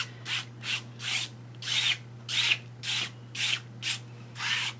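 Hands rubbing and smoothing wet adhesive-coated fabric, a steady series of about nine short, brushing swipes in a regular rhythm, close and fairly soft, with a low steady hum behind and no talk.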